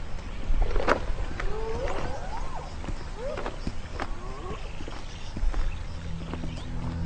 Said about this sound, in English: Thirsty zebra.